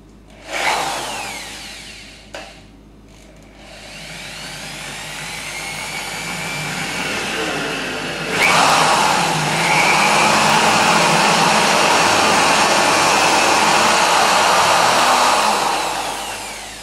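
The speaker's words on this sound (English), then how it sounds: "A little bit since I am drilling." A 710 W impact drill runs loud and close, with a brief start and stop, then a long steady whirring drive whose pitch shifts as the bit bites in, ending in a final run-down.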